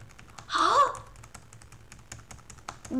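Quick keystrokes on a new computer keyboard during online bullet chess, a scattered run of light clicks in fast bursts, with a brief voice-like sound near the start and faint background noise.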